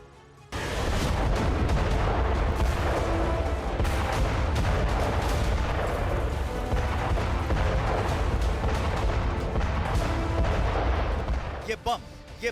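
Bombing and artillery strikes in footage of the Russia–Ukraine war, heard as a continuous, heavy roar of rumbling blasts and dense low booms that start abruptly and stay loud throughout, then break off into scattered cracks at the end.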